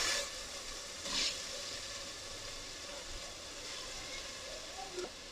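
Onions with cinnamon, clove and cardamom fry in hot oil with a soft, steady hiss, broken by a few brief louder bursts of sizzling, heard close at a low level.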